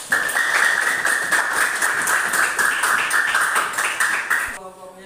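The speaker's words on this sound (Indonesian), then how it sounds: "Ya, tepuk tangan." Classroom applause in a Year 6 primary school lesson, dense steady clapping from many children lasting about four and a half seconds, fairly loud and close, then stopping abruptly.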